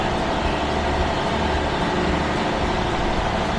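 A 650 kVA Perkins diesel generator in a silent enclosure runs with a loud, steady, broadband engine roar and low rumble, unchanging throughout, with no voices.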